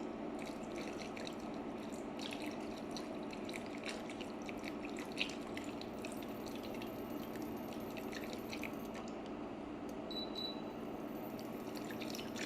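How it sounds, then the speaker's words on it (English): Two cups of milk poured gradually into a pan of cooked-down onions for scalloped potatoes, stirred continuously; a steady, close liquid wash with faint scraping runs throughout at an even level. "We're going to add our 2 cups of milk gradually."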